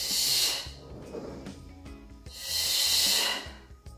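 A Pilates instructor breathes out strongly during an arm exercise with small weights, two long breathy exhales close to the microphone with soft movement noises between them and no talking.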